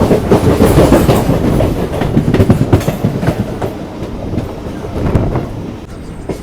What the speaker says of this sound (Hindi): गाड़ी दोस्तों गुजर रही है मार्शलिंग यार्ड से